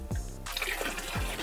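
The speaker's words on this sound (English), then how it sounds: "Keep sloshing." Water in an ice-fishing hole is sloshed with a cup, giving a close, splashy gurgling surge of swirling water with a couple of dull thumps, loud and with no voices.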